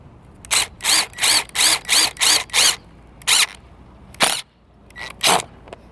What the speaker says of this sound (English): So we're going to go in from the top of our C channel here.